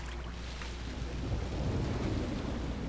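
Thunder rumbles low and continuous in a video game storm, with rain hissing steadily over it and no talk.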